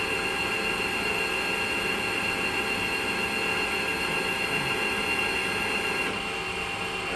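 A Mori Seiki NL2500MC CNC lathe spindle spins at 4,000 RPM, giving a steady, loud machine whine with broadband hum that holds evenly throughout, easing slightly near the end.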